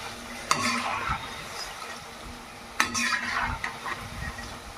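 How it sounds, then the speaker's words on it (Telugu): Onion pakodi frying in hot oil with a steady, close sizzle, broken by a couple of sharp clinks and scrapes of a utensil against the pan as the fritters are turned. "మిగతా అన్నీ కూడా ఇలానే ఫ్రై చేసుకుందాం"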